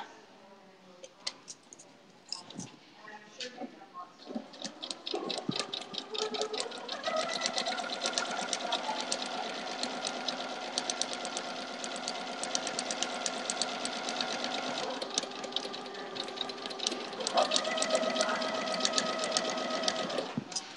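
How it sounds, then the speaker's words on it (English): A sewing machine stitches a quilt block seam. After a few scattered clicks and handling noises it settles into a long, steady, rapid mechanical whirring and ticking run, close by and continuous, with a brief pause and restart near the end. "And then I can take it over and sew it."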